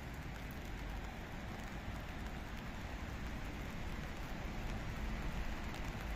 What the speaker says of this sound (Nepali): हिजो नि पानी परिरहेछ थियो, आज नि पानी पर्या परि छ।